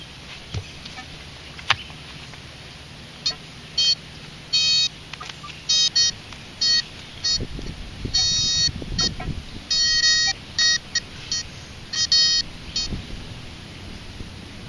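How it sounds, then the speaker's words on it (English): A Minelab Etrac metal detector in a park gives a rapid, irregular run of sharp electronic beeps and chirps as it interferes with a nearby pinpointer, with scuffing and handling noise in between. "Like the detector was interfering with a pinpointer"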